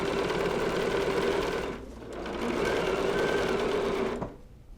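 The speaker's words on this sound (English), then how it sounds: "my quilt runner is under the presser foot, and I'm ready to start sewing" A sewing machine stitches steadily along the edge of a quilted table runner, a loud continuous whir that dips briefly midway and then stops near the end.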